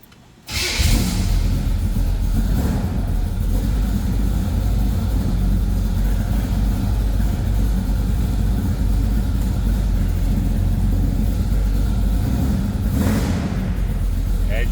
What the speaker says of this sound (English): Let's go ahead and fire this up. It's a good sounding engine.